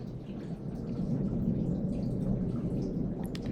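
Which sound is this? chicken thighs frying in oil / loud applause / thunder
thunder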